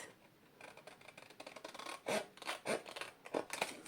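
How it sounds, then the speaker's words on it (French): Small paper squares are cut from a scrapbooking keepsake box with scissors, giving a few soft, quiet rasping snips that grow a little louder and more distinct toward the end. "On vient couper les 2 petits carrés qu'on obtient sur le côté"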